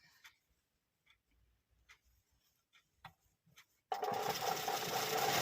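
A sewing machine stitches piping onto a ready-made blouse: faint scattered ticks and handling noises first, then a sudden loud, steady mechanical whirr of fast stitching near the end.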